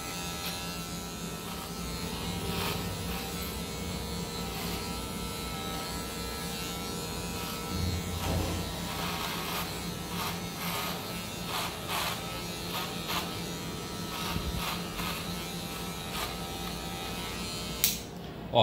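Electric hair clippers buzz steadily and close up while cutting very curly hair in a traditional haircut, with faint light contact ticks over a constant motor drone.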